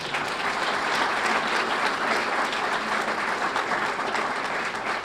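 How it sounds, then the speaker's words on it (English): A crowd applauds steadily at a Temple University student-athlete graduation celebration, with thick, even clapping sustained from start to finish and no voices standing out. "if we could give them another round of applause."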